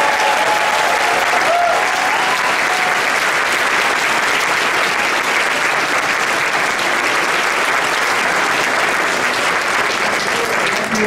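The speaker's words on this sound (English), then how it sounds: "Let's all give a loud round of applause." Loud, sustained applause from a large audience at a gubernatorial candidate forum, an unbroken wash of clapping at full strength throughout, with possible faint cheering mixed in.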